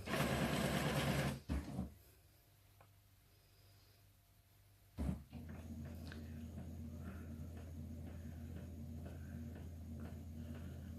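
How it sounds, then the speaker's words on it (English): A Brother MFC-J6720DW inkjet printer runs through a print job, starting with a loud mechanical burst, falling quiet, then settling into a steady low whir and hum of the carriage moving, close and without talk. "Print quality. Okay. That's printing."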